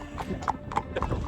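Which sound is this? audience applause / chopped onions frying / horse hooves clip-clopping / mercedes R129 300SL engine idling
horse hooves clip-clopping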